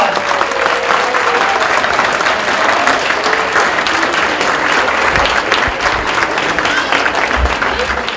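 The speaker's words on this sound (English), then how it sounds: "would you all please stand up and give Mayor Bogart, our keynote speaker, a tremendous round of applause" A standing crowd at a Nowrooz celebration in Pasadena gives the keynote speaker a loud, sustained ovation, dense clapping continuing evenly throughout with some cheering mixed in.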